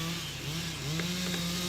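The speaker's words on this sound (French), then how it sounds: "C'est un guide de 60 cm qui équipe la tronçonneuse." A chainsaw with a 60 cm bar drones steadily nearby felling poplar trees, its engine pitch dipping and rising slightly as it works, with no voices over it.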